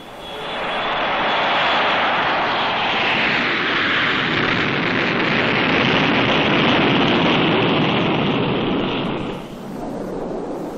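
A North American XB-70 Valkyrie bomber roars past in flight, its jet engines a loud, sustained broadband rush that holds steady for about nine seconds before dropping off.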